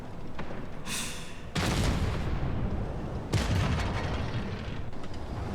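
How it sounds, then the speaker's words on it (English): Heavy booming blasts from a tank exploding in World of Tanks Blitz, two strong hits over a constant rumbling battle din. "Explosion. This vehicle has had it."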